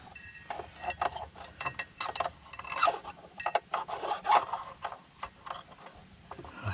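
A homemade tool probes behind a pulley on a John Deere Gator, giving irregular close scraping, rasping and light metallic clinks in uneven bursts, with no talking.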